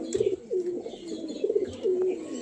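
Domestic pigeons coo in a series of soft, rolling calls at close range, overlapping one another with brief pauses in between, no voices.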